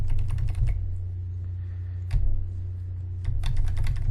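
Rapid keystrokes clatter on a computer keyboard in short bursts, with pauses between them, close and clear over a low steady hum.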